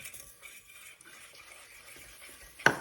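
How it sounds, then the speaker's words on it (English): Soft scraping and swishing of a utensil stirring a taco-flavored vegan cracker mixture in a bowl, faint and steady, ending with a brief louder clink. "Then you just want to take and stir it really nice."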